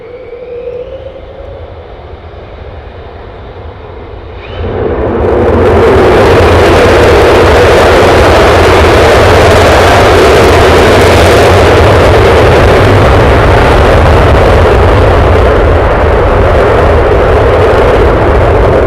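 A fighter jet takes off at RAF Lakenheath: a quieter engine whine for the first few seconds, then a sudden, very loud, sustained broadband roar of full thrust that fills the rest of the stretch.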